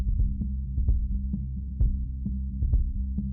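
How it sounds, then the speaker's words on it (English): A kick drum thumps in a steady pattern under a humming bass line, its punches slightly crunchy and gritty from an iZotope Ozone 8 exciter in a mastering chain. "you can hear that kick sort of crunching up there"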